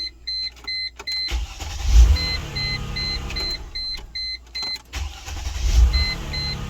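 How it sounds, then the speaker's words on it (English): A 2001 Mercedes-Benz ML320 is started repeatedly with the key, with several short bursts of low starter cranking and engine catch separated by pauses, and a regular electronic chime beeping steadily throughout, close and loud. "Cranks just like it's supposed to now."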